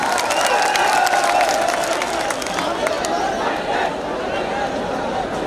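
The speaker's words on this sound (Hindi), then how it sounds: "जोरदार तालियां एक बार" Mushaira audience at an Urs gathering in Khajrana, Indore, bursting into loud, sustained applause and cheering, with dense clapping mixed with crowd chatter throughout.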